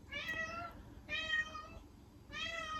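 A pet cat meows three times in close, clear, evenly spaced calls, each drawn out and tonal, with quiet gaps between.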